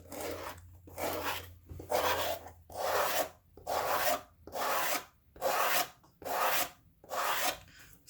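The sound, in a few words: rounding off the edge of a leather journal cover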